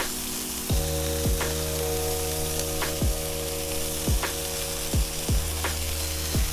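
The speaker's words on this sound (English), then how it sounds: "I'm gonna go on with some onions. Just gonna press them right on top." Onions pressed onto a hot Blackstone griddle hiss with a constant loud sizzle, broken every half second or so by scraping spatula strokes and presses against the flat-top steel.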